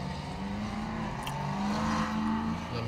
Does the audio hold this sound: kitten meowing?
no